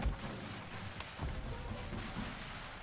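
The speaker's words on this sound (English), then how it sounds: "put some artillery shells out of this area right here" Artillery cannons fire in a strategy video game battle as Great Britain, giving dull, distant booms and thuds. They come in a few irregular blasts over a constant rumbling battlefield noise.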